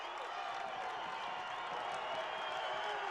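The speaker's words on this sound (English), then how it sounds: "the crowd's starting to kick in for WT" Basketball arena crowd cheering and roaring for WT, a steady dense wall of crowd noise with no breaks, fairly loud and sustained throughout.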